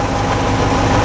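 A tractor engine idling on a cold snowy day in a village, a steady, continuous low rumble close by with no break.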